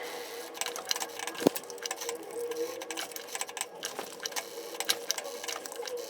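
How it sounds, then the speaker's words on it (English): A sewing machine stitches elastic at a skirt waistband overlap, running in a steady dense whir with small irregular clicks and one sharp knock, moderately close with no talking. "I'm going to secure my elastic by stitching a square around my overlap and then a cross on the inside"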